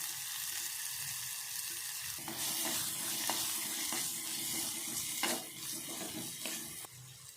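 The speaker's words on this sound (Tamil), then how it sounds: "வெங்காயம் வதங்கிட்டுக்கிட்டோம்" Small onions sizzle steadily in hot oil for mutton fat gravy, a continuous close crackle with occasional louder pops, and no voices.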